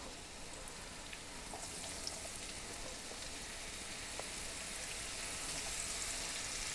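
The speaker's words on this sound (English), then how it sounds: "The oil is shimmering. It's sizzling." Steady, quiet sizzling and crackling of beef for fajitas frying in hot oil, with scattered pops and no talking.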